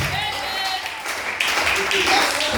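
Church congregation applauding the Lord during a French-language service, a brief burst of clapping mixed with a voice speaking loudly over it.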